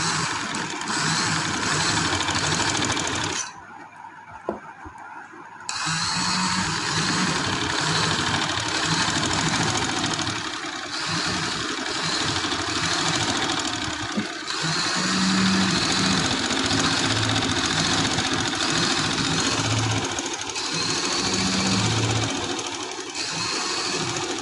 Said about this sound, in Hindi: अब इस पर आप सिलाई चलाएं।